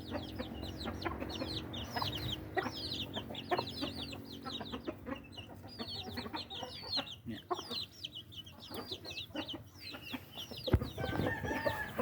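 Mother hen clucking repeatedly in short rhythmic bursts as she leads her chicks to eat unhusked rice, with chick peeps and other farmyard chicken sounds around, fairly close and steady throughout.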